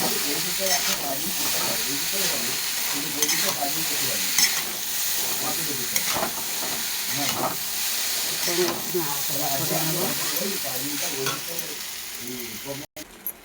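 Eggs frying in oil in a wok with salt, loud continuous sizzling and hiss while a spatula scrapes and stirs in irregular strokes, close and steady throughout.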